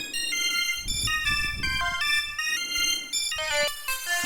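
Polyend Synth playing a bright wavetable patch: a stepping sequence of clear, bell-like tonal notes in a steady rhythm over a soft low pulse, loud and close with no voices.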